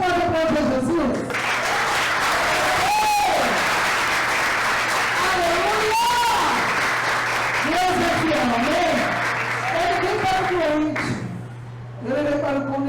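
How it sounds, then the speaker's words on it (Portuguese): Church congregation applauding steadily while voices and shouts rise over the clapping, continuing for several seconds before a brief dip and resuming. "Você pode aplaudir Jesus?"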